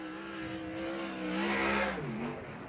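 A 410 sprint car engine roars and revs up to a higher pitch during time trials at Arizona Speedway, then drops as the driver lets off, loud and fairly close.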